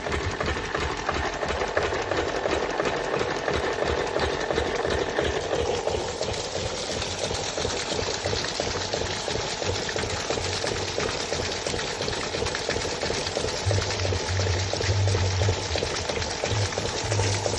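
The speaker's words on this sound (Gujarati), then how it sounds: "પાણી આવી ગયું મશીન ચાલુ કરી દીધું હવે આખી રાત સૂઈ જશું અને મશીન ચાલશે" A Field Marshal diesel water pump engine runs at night in a village field, giving a steady, rhythmic thumping chug that carries on evenly at moderate loudness.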